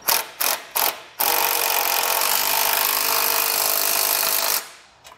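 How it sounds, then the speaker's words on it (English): Nuts snugged down with a 9/16 wrench and socket while fitting a Blue Ox base plate kit on a 2023 Chevrolet Equinox: three quick close ratchet bursts, then a loud, steady ratcheting whir lasting several seconds before stopping. "I'm going to come back with a 9/16 wrench to hold the nut and a 9/16 socket."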